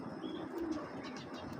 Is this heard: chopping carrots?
no